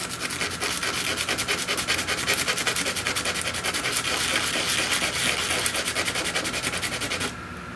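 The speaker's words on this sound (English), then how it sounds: "I got 120 grit here, and we got to rough up the shiny edges here." Sandpaper of 120 grit rubbed back and forth over the shiny edges of capacitors on an arcade monitor neckboard, a steady rapid scratchy rasping that continues loud and close, then drops off near the end.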